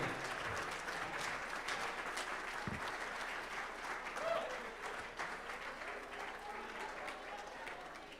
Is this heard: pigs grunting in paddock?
no